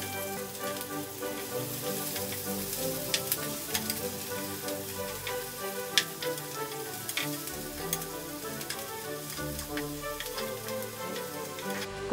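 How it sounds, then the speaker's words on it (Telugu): Onions fry in a pan in an Indian home kitchen, a steady close sizzle and crackle with occasional sharp pops, heard alone without talk. "ఇప్పుడు ఆనియన్స్ కూడా ఇందులో వేసి ఫ్రై చేయాలి."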